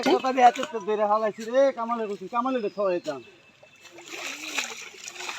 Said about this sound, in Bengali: এখন মাছগুলো ভালো করে ধুয়ে নিচ্ছে